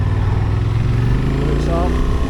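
Engine of a 2023 Honda XL750 Transalp motorcycle being ridden in second gear, a steady low rumble that stays loud and close the whole time, with no talk over it.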